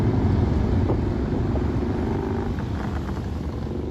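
Motorcycles, part of a group of more than 150 bikes in a charity ride, rumble along a highway with a deep, continuous engine drone that fades slightly as it passes.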